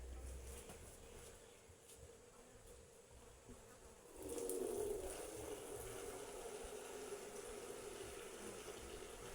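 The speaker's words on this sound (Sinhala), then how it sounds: "යාළුවනේ ඔය ඉතින් මං මාළු ටැංකියට වතුර දානවා" Water pouring into a fish tank, a faint low trickle that swells partway through into a steadier, fuller rush and keeps running to the end, no voices.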